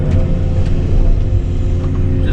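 An excavator's diesel engine rumbles loudly and steadily nearby while it loads burn pile debris, a deep continuous drone with slight fluctuations in load.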